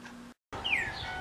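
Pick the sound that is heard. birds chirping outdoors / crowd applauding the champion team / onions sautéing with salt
birds chirping outdoors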